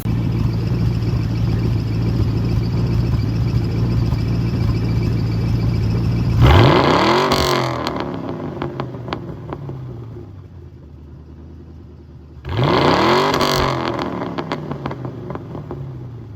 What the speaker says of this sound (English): I'm gonna show you a couple revs actually.